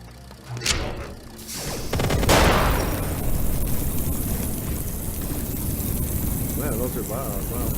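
Dense, loud volleys of gunfire in the VR video game Compound, starting with a few sharp shots and then building into a sustained roar of overlapping bullets with no talking.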